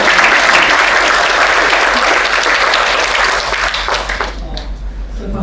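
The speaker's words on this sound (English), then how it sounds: "let's give a big round of applause" An audience applauds a chef's talk with loud, sustained clapping from many hands in a room, tapering slightly toward the end as a voice starts speaking over it.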